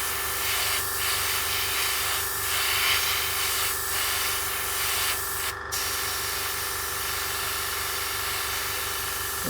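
An airbrush pushes plain air to dry acrylic paint, giving a continuous close hiss with faint pulsing bursts and one brief break, steady and alone.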